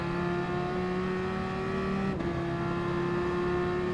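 Race car in Gran Turismo Sport pulling out of the pits on soft tyres, a steady droning engine tone held at near-constant pitch with a brief dip midway, no talk.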